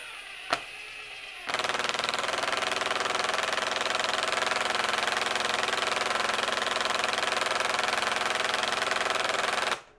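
A Harbor Freight Bauer brushless impact driver on speed 1 drives a 3-inch number 10 wood screw, a loud, steady, buzzing, rattling hammer that starts abruptly after a brief click and runs for about eight seconds before cutting off.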